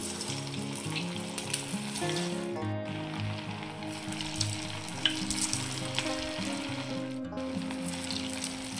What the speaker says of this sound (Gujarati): હવે આપણે એને તેલમાં તળવા મૂકશું